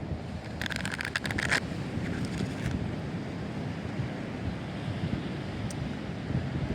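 Ocean surf washes steadily onto a beach in a soft, continuous broadband roar, fairly faint and mixed with wind buffeting the microphone and a few brief crackles.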